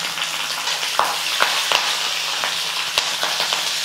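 Tempering of lentils, chopped ginger, dried red and green chilies frying in hot oil, a loud continuous close sizzle with sharp spatula scrapes and taps spaced through it.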